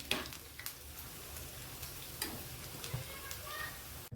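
Fenugreek leaf fritters frying in oil, a faint steady crackling sizzle with scattered small clicks as they are turned over in the pan, quiet voices faintly in the background.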